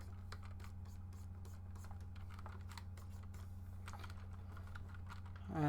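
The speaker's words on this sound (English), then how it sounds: "I'm so sorry for the noise of my keyboard" Keys clatter on a computer keyboard in quick, irregular bursts, faint and close against a low steady hum.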